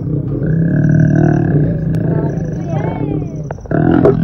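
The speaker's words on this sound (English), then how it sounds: "Listen to these 2 lions that jumped on top of the car." Two wild lions that have jumped onto the roof of a safari vehicle give long, loud, deep roars and groans up close. The calls are drawn out, sometimes almost whale-like, and rise and fall over several seconds.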